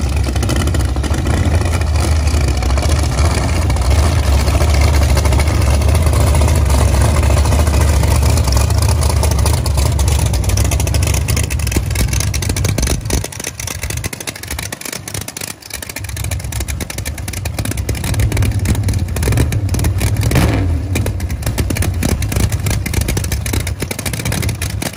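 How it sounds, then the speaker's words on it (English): Pro mod drag racing cars roar at Atmore Dragway, a loud sustained engine drone that dips briefly midway and then swells again. "Final for the pro mods. Could be the fastest cars in the class."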